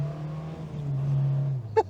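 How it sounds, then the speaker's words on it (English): A 1983 Toyota pickup with an open differential and a worn clutch holds a steady, moderately loud engine drone under load, then the tone drops away and a short sharp burst follows at the very end. "Let's do a little peel out."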